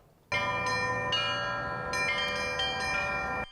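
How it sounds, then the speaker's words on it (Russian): Church bells ring out loudly and close by at a Siberian festival of Russian bell ringing, several bells struck in overlapping, sustained peals that bloom and layer without speech. "Колокольный звон называют молитвой"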